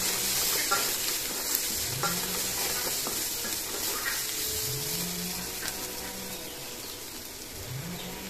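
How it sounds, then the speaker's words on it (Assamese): Leafy greens (datha xak) frying in a pan with salt and turmeric, a continuous bright sizzle with intermittent spatula stirring scrapes, fairly close and steady throughout, with a faint tonal hum sweeping in the background. "এইখিনি একেলগে ভাজি"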